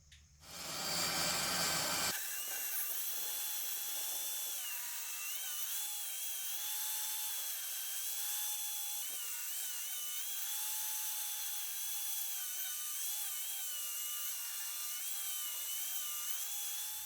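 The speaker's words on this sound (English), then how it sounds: "Then I milled some of the back of the board away, leaving about a 1/4-inch lip at the top." A power tool mills away the back of a wooden window sill board, starting with a brief loud burst and settling into a steady high whine with a constant rasping, whirring cut that runs on close and loud, without talk.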